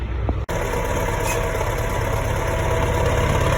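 A tractor engine runs loud and steady in a continuous low chugging drone, after a brief cut at the start.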